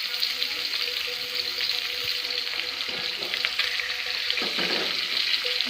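Datina fish fries in hot oil with a steady, loud, continuous sizzle and crackle, and a few faint stirring knocks come through underneath.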